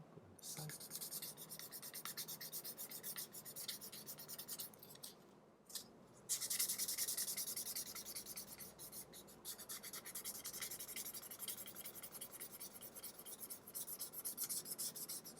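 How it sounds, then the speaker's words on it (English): Sandpaper rubs back and forth over a leather cardholder to clear excess glue, a close, continuous rasping scrape with a short pause near the middle, no talking. "Now the sandpaper is going to remove the excess glue as well"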